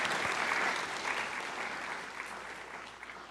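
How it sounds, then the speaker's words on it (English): Audience applause fills a hall at a university honors colloquium, a dense steady wash of clapping that gradually tapers over a few seconds. "So if we could have a little applause for all of the above."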